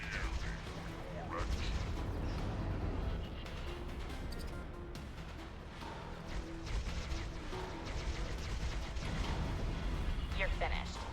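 Enemy ship weapons fire in the space game X4, a steady barrage of rumbling booms and crackling blasts that runs under a voice.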